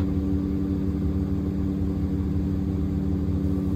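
Gyroplane engine and propeller droning steadily close by in flight during a slow vertical descent, a continuous mid-pitched hum with strong harmonic tones that holds even throughout, no voices.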